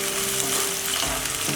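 Chopped onion with grated ginger and garlic frying in a hot pan, a steady dense sizzle throughout with faint stirring scrapes near the end, close and alone without talk.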